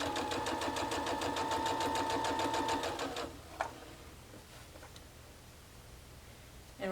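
A sewing machine fitted with a 1/4 inch presser foot stitches a quilt block in a fast, even rhythmic whir for about three seconds, then stops, leaving a click and quiet room noise.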